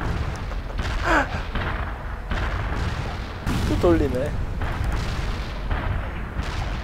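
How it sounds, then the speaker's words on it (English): Artillery shells from the World in Conflict video game crash onto a target in a steady rumbling barrage with scattered booms, heard under someone speaking Korean and game radio chatter. "Delivering a rain of shells at target coordinates"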